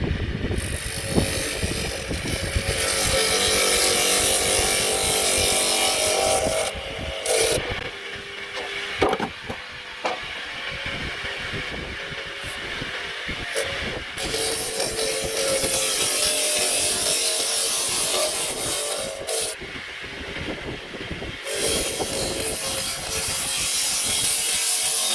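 A power saw cuts into a Premier paver, a loud, gritty, sustained grinding that dips and resumes several times as the blade bites through the stone outdoors.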